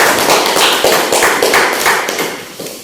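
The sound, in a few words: applause for group 2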